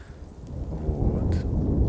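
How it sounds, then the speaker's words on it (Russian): A low thunder rumble swells gradually under steady rain during a storm in the game Dwarf Fortress, with a brief sharp crackle midway and no speech. "Такая гроза классная."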